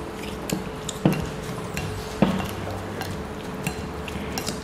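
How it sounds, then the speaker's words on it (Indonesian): Oyster sauce and white sugar being stirred in a pan, with a utensil scraping and clinking against the metal in irregular strokes, a few sharper knocks standing out over a low steady background hum. "ini saya aduk"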